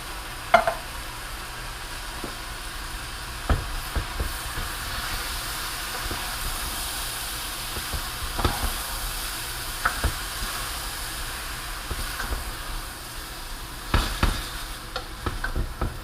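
Jambalaya with 14 ounces of diced tomato being gently stirred in a pot, producing soft scraping and sloshing strokes over a faint, steady sizzle, with sporadic louder spoon knocks.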